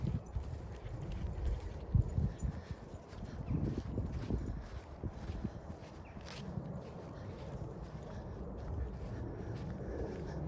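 Horses walk on a windy outdoor path near a fence, their hooves giving soft irregular clip-clops and footfalls under steady gusting wind noise, with occasional louder thuds close by.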